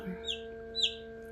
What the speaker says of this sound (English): these guys are noisy too when they're babies, chickens.